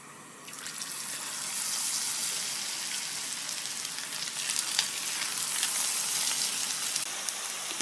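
Leftover-rice finger rolls frying in hot oil in a frying pan on a gas stove over low flame, a steady dense sizzle that swells after the first half second and holds with small crackling pops throughout, no voices.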